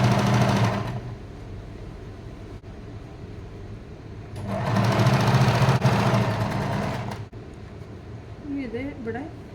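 A sewing machine runs in two bursts while stitching a kasavu border onto a frock, a steady mechanical whir. Someone talks over and between the bursts.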